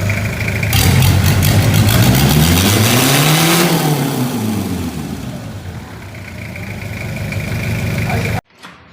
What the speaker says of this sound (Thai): การติดเครื่องการติดเครื่องนะครับ